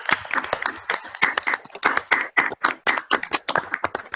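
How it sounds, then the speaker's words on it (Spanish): Audience applause at the close of a talk, a steady patter of many hands clapping together at close range with no voices over it. "yo empiezo con el aplauso."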